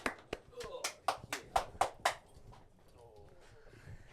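A handful of separate, fairly sharp claps ring out in a quick run and then stop, followed by quiet background murmur with voices, in a comedy podcast studio setting.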